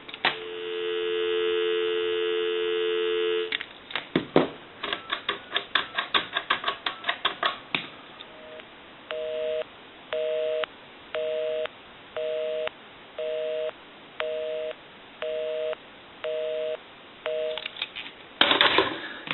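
A Snoopy and Woodstock novelty telephone gives a steady dial tone alone, then a quick burst of dialing clicks, followed by a regular on-off pattern of evenly spaced busy beeps.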